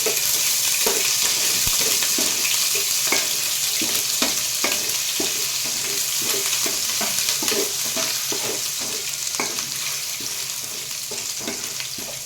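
Ginger and garlic frying in hot ghee for a mutton gongura coconut-milk biryani, a steady close crackling sizzle with repeated scrapes and clinks of a stirring spoon against the pan throughout.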